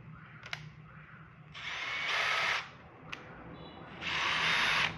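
A Makita HB480D cordless brushless 18V hammer drill runs in hammer drilling mode in two loud, close bursts of about a second each, separated by a quiet pause and preceded by sharp clicks.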